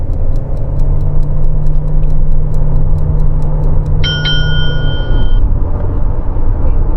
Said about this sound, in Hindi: The car is in sports mode and we floor it, so wheel spin is there.